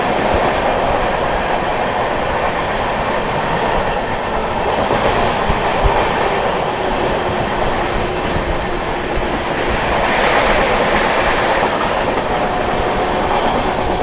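The 12398 Mahabodhi Express runs along the line with a loud, continuous rumble and rattling of wagons, soft rhythmic clicks of wheels over rail joints, and a swell in roar partway through, heard from inside the moving train.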